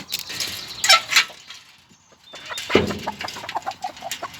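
Hens in a small henhouse clucking in short, scattered bursts, moderately close, with a quieter lull in the middle before more clucks and rustling follow.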